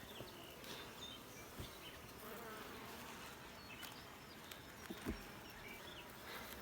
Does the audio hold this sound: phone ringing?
no